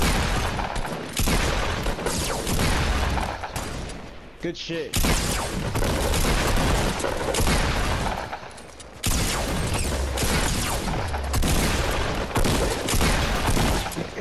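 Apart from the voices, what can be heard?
gunfire in the video game Fortnite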